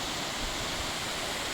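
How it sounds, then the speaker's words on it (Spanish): Cascada de los Vados, a waterfall where two small streams join in the Sanabria Natural Park, gives a steady, dense rush of falling water heard close up with no voices. "Hemos llegado ya a la cascada de los Vados"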